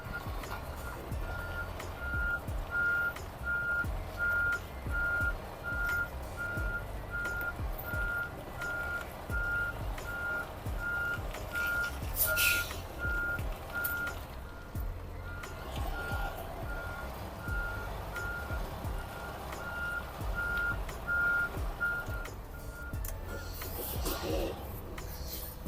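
A semi truck with a trailer backing up, its reversing alarm beeping at a steady, regular pace for most of the stretch over a low diesel idle, with a brief hiss of air partway through.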